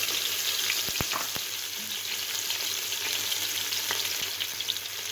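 Two tablespoons of garlic and ginger paste frying in oil, a continuous close hiss of sizzling with a few sharp clicks of a spoon against the pan early on.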